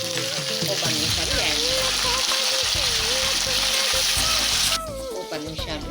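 Onion, green chilli and curry leaves sizzle in hot oil, a steady loud crackling frying sound with some stirring, and a voice talks over it for much of the time before the sizzle thins near the end.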